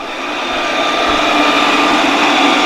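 A Tapo RV30 Max Plus robot vacuum cleaner runs with a steady, loud whirring motor hum that swells slightly and then holds constant, with no voices present.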